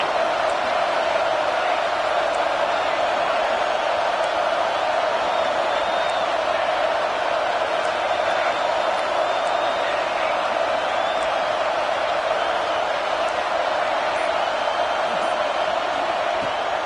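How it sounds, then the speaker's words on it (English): A loud football stadium crowd roars at full throat before a third-down play, a dense, steady wall of noise that holds without letup throughout, with occasional whoops rising above it. "This crowd, full throat, splitting the eardrums and letting them know it's going to be a long day."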